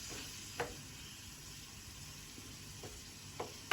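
Briouat filling of onion, chicken and pepper sizzling quietly in a frying pan, a steady soft hiss with a few faint scrapes of stirring every second or so.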